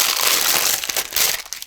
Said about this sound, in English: Noisy paper.